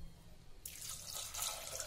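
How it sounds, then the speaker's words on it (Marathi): Water is poured into a cooking pan holding peanuts and chili pieces for a raw tomato vegetable dish, a soft splashing stream that starts partway through and runs on quietly, nearby, with no talk. "आपल्याला पाहिजे तसं थोडं पाणी घालायचं"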